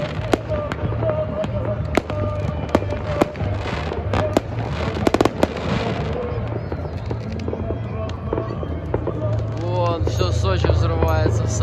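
New Year's fireworks in Sochi crackle and bang repeatedly at varying distances, sharp pops scattered throughout, with people talking over the noise.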